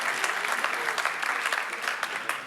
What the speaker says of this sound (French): Ah, ça applaudit carrément.